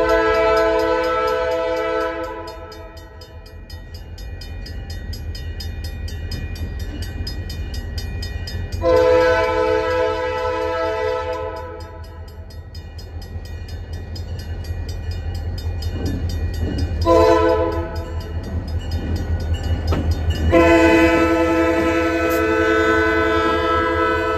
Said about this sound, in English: the horn on 3805 is in fact its original, a Southern Railway P5A.